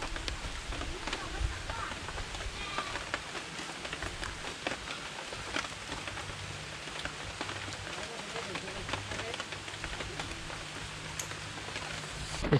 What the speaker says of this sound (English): It's still raining, but Pedro's keeping the fire going.